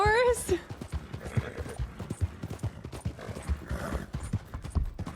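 Horse galloping in Red Dead Redemption 2, with a brief whinny at the start and then rapid rhythmic hoofbeats, moderately loud and mixed with some voice.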